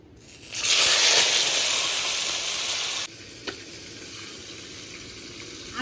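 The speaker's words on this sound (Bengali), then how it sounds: "বন্ধুরা, তেলটা গরম হয়ে গেছে, এবার মাছটা দিয়ে দিই।" A whole fish, rubbed with turmeric and salt, drops into hot oil and bursts into a loud, bright sizzle that settles after a few seconds into a steadier, quieter crackle, with a small clink partway through.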